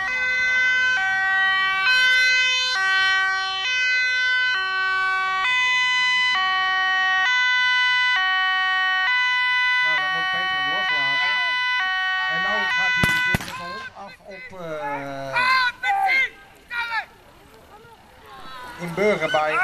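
A police car arrives at a dog demonstration with its siren wailing loudly and steadily, then the tone breaks up as voices and crowd noise take over, with people talking.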